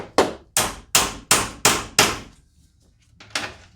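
A hammer strikes an aftermarket radiator during a 2004–2006 Lexus RX330 radiator replacement: six evenly spaced, sharp metallic blows, a pause, then one final hit, loud and close.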